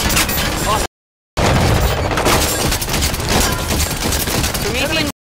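Halo 5 Warzone combat on a Promethean outpost: dense, loud bursts of gunfire and a booming grenade blast, broken by a brief cutout of silence, with game voices mixed in.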